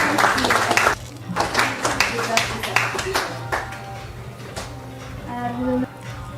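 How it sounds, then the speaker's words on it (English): Audience at a Wikimedia meeting in a hotel clapping for several seconds, a dense patter of many hands with a steady hum underneath. "I'd like to ask to clap"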